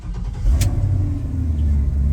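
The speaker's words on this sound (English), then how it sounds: "I'm gonna take this for a ride, fire up this LS." An LS V8 engine in a square body truck runs loud and close, a steady low rumble with slight revving and no talk over it.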